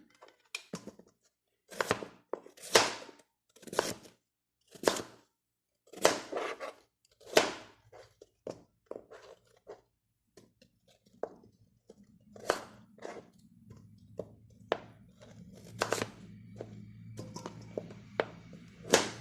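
Knife slicing jícama on a cutting board while preparing pickled chiles perones with fruit and vegetables: sharp, crisp cuts in an irregular rhythm, close and fairly loud, with a low hum building toward the end.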